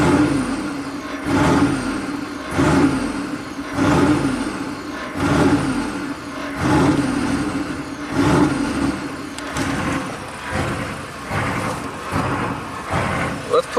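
A Chevy 6.5 turbo diesel engine with a throttle fault revs again and again in a regular surging rhythm, each rise and fall about a second apart, loud and close.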